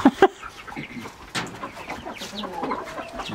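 Chickens in a coop cluck loudly at the start, then keep up a busy stretch of softer clucks and rustling in the background.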